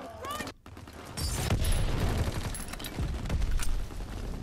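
Video game Black Ops 4 battle noise: rapid gunfire bursts and explosions crackle and boom in dense, overlapping clusters, with voices talking over the chaos.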